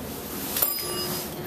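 A single chime from a Dover elevator bell, sounding once near the middle of a short stretch of quiet lobby ambience after a modernized lift's doors close in downtown Leominster, Massachusetts.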